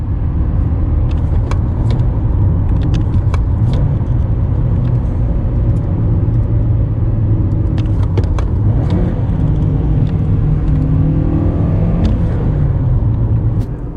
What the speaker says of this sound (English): Let's say if you're down changing from 4th to 3rd at 80 kilometers an hour.